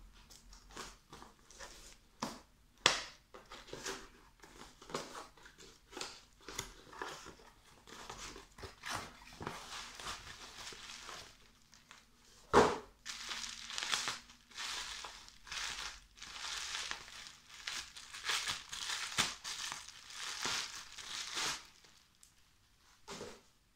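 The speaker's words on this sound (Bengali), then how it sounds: "আমি আনপ্যাক করে দেখাচ্ছি।" Crinkling, crushing packaging as a parcel of apple cider vinegar shipped from America is unwrapped, with a steady run of rustles and crunchy bursts and several sharp louder snaps, close by and without talk.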